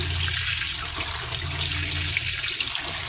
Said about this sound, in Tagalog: ganito maghugas ng gulay